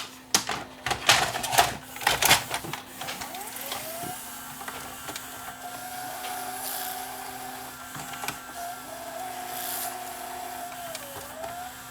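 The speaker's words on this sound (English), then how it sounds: "now the tape's going into full rewind and eject" A Toshiba M750 VHS recorder rewinds a tape with a steady mechanical whir, after a burst of clicks and clunks from the transport mechanism near the start, and the motor tone shifts and drops near the end as it stops and ejects.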